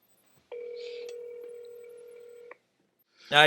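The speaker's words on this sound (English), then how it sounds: "We're calling Paul Tan for his version of the story." A phone call being placed: a steady two-tone dialing or ringback tone sounds for about two seconds, clear and alone, followed by a brief burst of a voice.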